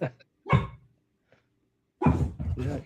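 A female dog barking and whimpering close by in short sharp bursts, a couple of isolated barks followed by a louder run of two barks.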